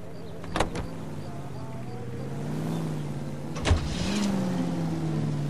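A 1940s Los Angeles car in a detective game being started and driven off, a low engine hum rising slightly in pitch, with two sharp door or mechanism clunks partway through.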